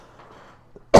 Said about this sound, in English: I am coughing.